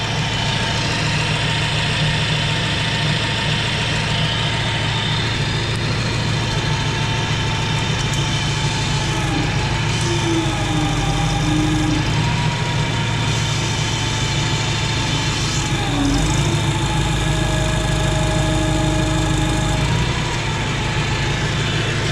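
Farmall Super C tractor engine idling steadily at close range, a continuous low mechanical rumble with a few brief shifts in pitch as the throttle is moved, no talking.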